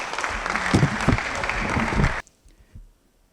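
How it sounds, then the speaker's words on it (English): An audience applauding a poet at a poetry slam quarter final in Gambia, a short burst of close, dense clapping that stops abruptly after about two seconds. "A round of applause."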